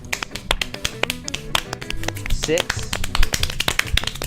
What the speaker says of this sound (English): I can't imagine clapping for hours a day.